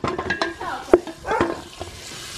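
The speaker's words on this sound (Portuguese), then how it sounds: "tá fritando as duas" Food sizzling and frying in a pan during a farm-day lunch cook, with a steady crackle plus stirring and a few utensil knocks and clinks close by, no talking.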